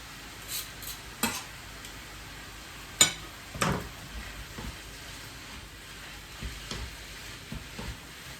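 Meat for an aubergine lasagne frying in a pan, a faint steady sizzle broken by scattered stirring scrapes and a few sharper clanks of utensil against pan.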